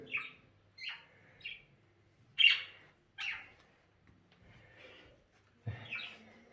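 A Pakistan parrot being tamed gives a series of short, harsh squawks and chirps in irregular bursts, fairly faint and close in a quiet room.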